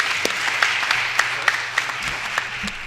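An audience at a sports media talk applauds in a steady wash of clapping, with a few louder individual claps popping out near the front.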